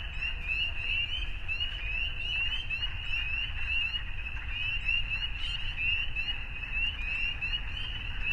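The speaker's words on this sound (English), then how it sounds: "Wow, that's a lot of frogs." A constant, loud chorus of many frogs fills the air: overlapping high peeps and trills pulsing nonstop over a low outdoor rumble.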